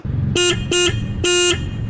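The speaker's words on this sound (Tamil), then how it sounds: "ஒரு சிங்கிள் ஹார்ன் தான் இந்த பைக்கில் நமக்கு கொடுத்துருக்காங்க" A Royal Enfield Classic 350 motorcycle's single horn sounds three times: two short honks, then a longer one, loud and close over a low engine rumble.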